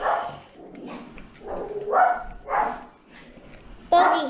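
A dog named Bobby barks indoors in a series of loud, spaced woofs with short whimpering yips between, fairly close and clear.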